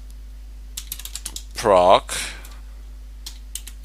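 Command being typed on a computer keyboard at a Linux terminal: a quick run of crisp, evenly spaced key clicks, then a brief spoken word, then a few more scattered keystrokes, all close and clear.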